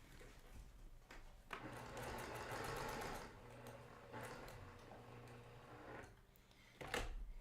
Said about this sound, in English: I'm going to go sew it.